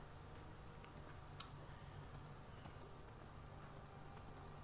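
A horse's hooves clip-clop faintly and steadily while riding in the Skyrim video game, low under a quiet background hiss.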